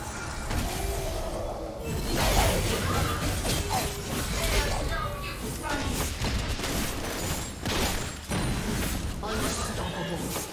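Crashing and whooshing effects in a League of Legends match as an enemy turret is destroyed, a dense run of impacts and bursts under an in-game announcer voice.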